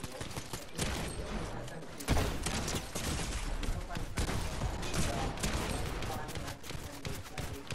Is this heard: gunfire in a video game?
yes